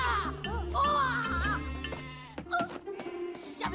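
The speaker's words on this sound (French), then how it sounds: "Je savais pas qu'on élevait aussi des moutons ici." Sheep bleat in a wavering, quavering chorus at close range, several overlapping calls over a busy background, with a few short sharp noises toward the end.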